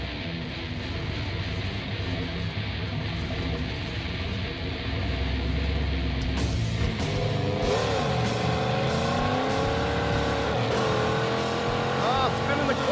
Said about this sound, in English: that was spinning the clutch through every gear